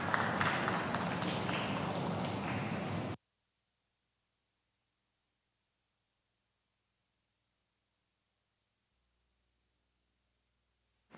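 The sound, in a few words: audience applause for the pitch presenters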